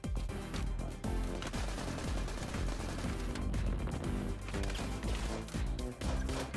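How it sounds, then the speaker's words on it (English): Gunfire in the video game Get Even, dense bursts of automatic shots and impacts layered over loud continuous game music and ambience, with no clear pauses. "They're shooting at me, mate."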